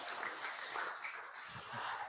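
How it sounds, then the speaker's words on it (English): Audience clapping for two winners at a class event, a steady, moderately distant round of applause filling the whole stretch without a break. "Let's give both of our winners a round of applause"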